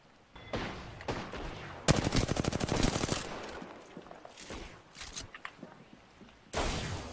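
Rapid automatic gunfire from an Apex Legends match, with one dense burst of quick shots, a few scattered single reports, and another short volley at the end, fairly close and loud.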